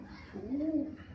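Pigeons kept for egg laying give a soft, low cooing call that swells and fades once over a faint background, with no talking.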